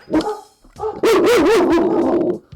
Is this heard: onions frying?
no